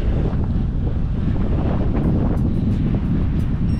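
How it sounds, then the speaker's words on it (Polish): Strong wind blowing outdoors buffets the microphone, a loud, continuous rumbling roar that fills the whole moment without a break. "Ale pewnie też słyszycie, wieje, wieje i podejrzewam, że wiać będzie."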